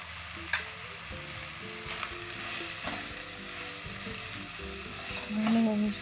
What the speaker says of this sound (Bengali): ভালোভাবে সব মশলার সাথে চিকেনটাকে মিক্স করে নেব।